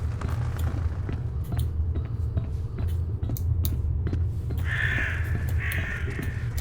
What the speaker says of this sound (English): You also hear the birds.